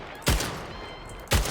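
Two sharp, loud gunshot bursts in the Splitgate arena shooter, spaced about a second apart, each a sudden percussive crack with a short tail over a low, steady game ambience.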